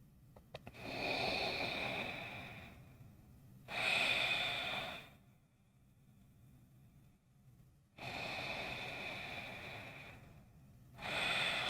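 Slow, deep breathing during Ashtanga yoga practice, with long audible inhales and exhales alternating with quiet pauses, close and soft, with no talk.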